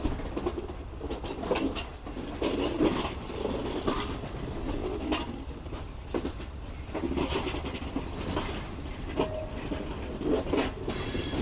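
The Pak Business Express, made up of CNR coaches, pulls out of Karachi Cantt station, giving a moderate rolling rumble with scattered wheel clicks and occasional faint squeals, heard from on board and steady throughout.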